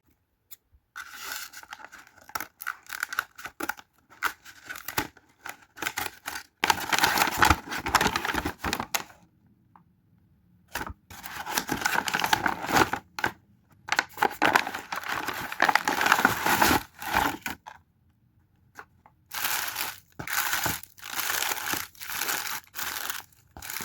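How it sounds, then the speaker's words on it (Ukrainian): Plastic bag crinkling and rustling, followed by bursts of dry, rattling clatter as loose flower bulbs tumble into a basket, in several bouts separated by short pauses. "Зараз я відкрию, висиплю сюди в цю корзинку все."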